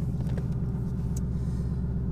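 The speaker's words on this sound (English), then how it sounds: "I'm just starting up the car so I at least have some AC" A parked car's engine idles with a steady, close, low rumble and faint mechanical hum that holds even throughout, with no talking.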